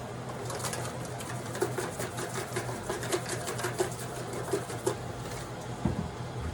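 A steady electric fan whir runs throughout, with a few soft cooing bird calls and faint clicks drifting in the background.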